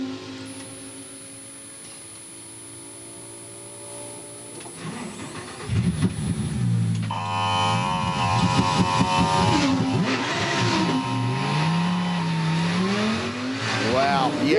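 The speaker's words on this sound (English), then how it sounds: "Liam Talbot pulls to the side of the road. Is it just a Control-Alt-Delete?" Race car at the Bathurst 12 Hour endurance race, pulled to the roadside for a full system reset. A steady hum gives way midway to louder engine noise as the car restarts, with rising and falling engine tones and some background commentary.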